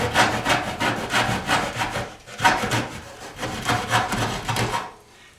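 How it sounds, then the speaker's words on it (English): Wooden baseboard trim being cut with a hand miter saw, producing rhythmic back-and-forth rasping strokes up close, with a brief pause midway before the sawing resumes and ends. "I just use a standard hand miter saw and I cut along the straight line"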